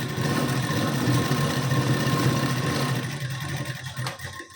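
A sewing machine double-stitches the front seam of a size 32 katori blouse, whirring steadily and close up before easing and slowing slightly toward the end.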